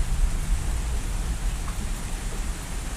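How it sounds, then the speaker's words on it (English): Heavy rain pours outdoors early in the morning, a steady broadband wash with dense low rumble and no talk. "It's pouring down rain, but it's so peaceful."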